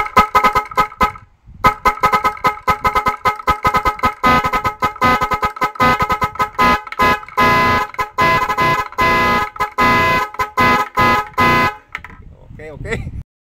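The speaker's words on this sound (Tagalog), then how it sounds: "Sumasayaw na yung busina natin dyan." A musical horn fitted to an Isuzu double cab pickup blares a rhythmic, dance-like tune in loud, rapid staccato honks for about twelve seconds before cutting off, with people talking over it.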